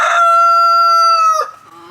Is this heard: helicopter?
no